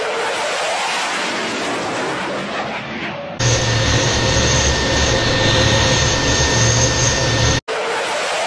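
Attacking aircraft approaching a warship, a steady loud engine roar that cuts in abruptly after a noisy opening, holds at an even level, and breaks off briefly near the end.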